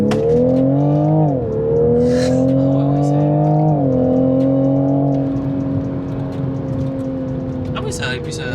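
A Toyota Supra Mk5 engine and exhaust, with added active sound, drone loudly and steadily from inside the car, pitch climbing and dropping through gear changes, then settling to a steady cruise hum.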